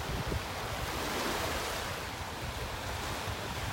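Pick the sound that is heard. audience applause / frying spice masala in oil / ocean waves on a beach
ocean waves on a beach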